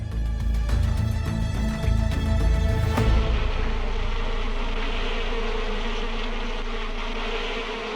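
Dense buzzing of bees swarming a beehive fills the whole span, loud and continuous, with no voices.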